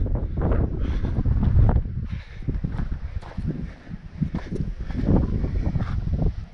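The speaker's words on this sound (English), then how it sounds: "Hope you can hear me, because the wind is really strong up here." Strong wind on an exposed hilltop buffets the microphone in loud, irregular gusts and rumbling thumps, rising and easing continuously without a break.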